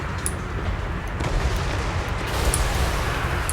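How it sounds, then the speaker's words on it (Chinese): Ranged artillery keeps up a bombardment in the Total War: Warhammer 3 battle, with a dense, continuous low rumble of booms and blasts and a few sharper crack-like impacts rising out of the din. "远程依旧不断的轰炸，这个非常可怕"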